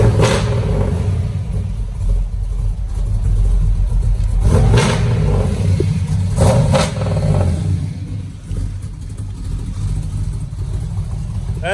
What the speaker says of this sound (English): just give you a nice little cold start, let you guys hear this thing run